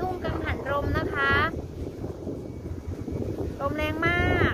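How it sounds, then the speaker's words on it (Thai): Strong wind buffets the microphone at a wind turbine field in Thep Sathit district, Chaiyaphum, Thailand, a steady loud roar and rumble throughout, with brief voice-like calls near the start and end. "ลมแรงมาก"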